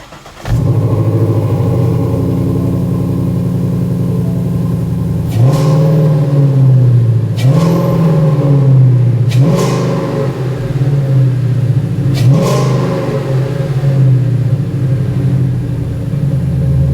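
A 2015-2017 Mustang GT engine with a cold air intake idles with a steady rumble, then revs sharply four times at regular intervals, each rev rising and falling back to idle.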